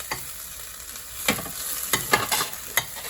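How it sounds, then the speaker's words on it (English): Garlic sautéing in a pot for squid adobo gives a soft, steady sizzle, with a few sharper scraping stirs of a utensil spaced through it, close and fairly quiet. "make sure when you saute the garlic, it's around roughly 2-3 minutes, depending on the pot and the quality of the pot"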